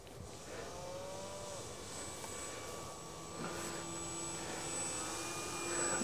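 A Tiger Moth biplane flies past outdoors around sunset, its propeller engine a faint, steady drone that swells slightly toward the end, with no talk.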